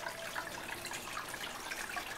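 Defrosted mysis shrimp poured into aquarium water, a faint, continuous liquid splashing and trickling that lasts a couple of seconds without talk.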